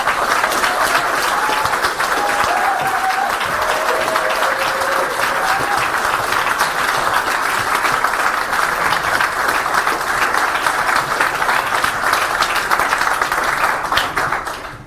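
Sustained audience applause at a Green Party of England and Wales leadership announcement, thanking election staff: a thick, even roar of many hands clapping close and loud for nearly fifteen seconds, with faint cheers in the crowd before it tails off.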